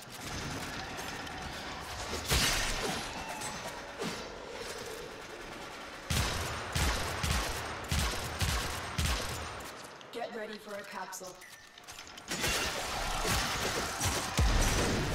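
Gunfire in the Warframe video game, dense bursts of rapid shots and crashing impacts that keep coming nearly without pause, with a short lull and some higher whooshing effects before the barrage resumes.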